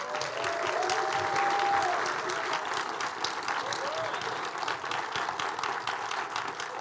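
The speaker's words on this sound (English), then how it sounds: "Clap it up for Rosa" A seated audience at a speaker series applauds as Rosa Clemente is welcomed to the stage. The clapping is steady and sustained throughout, with a few cheers and voices rising over it early on.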